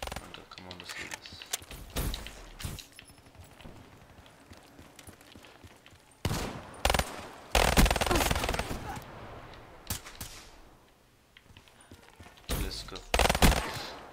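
Automatic gunfire from a Black Ops 3 gun game match, coming in loud bursts separated by quieter stretches, with a player's voice talking over parts of it.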